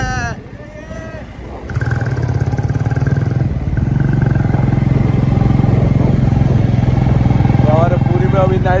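A motorbike engine drones steadily and close during a night ride through Puri, a continuous loud hum that holds its pitch with faint street sounds around it.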